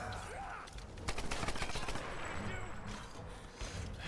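Rapid gunfire in Tomb Raider aimed at a creature's arm, a dense burst of shots in the middle over a busy game background, fairly quiet overall.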